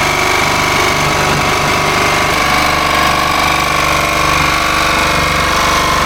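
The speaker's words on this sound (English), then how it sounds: "Turn it down to a slower speed. Always better cutting metal slowly." A power tool cutting a hole through the metal body of a Fiat Ducato van to fit a bunk window: a loud, continuous harsh grinding rattle that shifts pitch partway through, with no talk.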